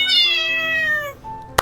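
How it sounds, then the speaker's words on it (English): A cat gives a single long, loud, close meow that slides downward in pitch, ending with a short sharp click. "a cat crossed your path?"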